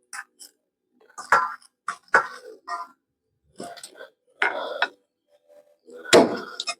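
A whole chicken is chopped into pieces at home: a series of sharp, close chopping whacks in irregular bursts, separated by short silences.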